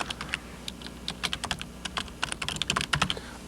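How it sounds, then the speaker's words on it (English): Fast, irregular keystrokes clatter on a computer keyboard while someone types a reply into an online discussion post, close up and steady, with no voice over the clicking. "I'll type in my response here"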